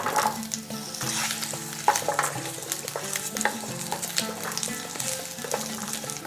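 Potatoes frying in ghee in a pan, a continuous soft sizzle with scattered crackles and stirring clatter, close and fairly quiet, no talking.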